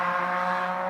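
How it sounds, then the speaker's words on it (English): A motorbike passes outside a caravan, a steady droning engine tone with strong harmonics, held evenly for under a second, muffled but clearly present. "Sorry about the motorbike noise"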